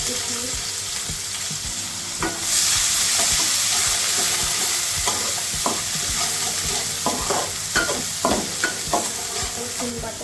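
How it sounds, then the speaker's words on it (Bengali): Steady sizzling of fish frying in a pan, with scraping and clinking of a utensil stirring, growing busier in the second half. "এখন মাছটা ভাজবো"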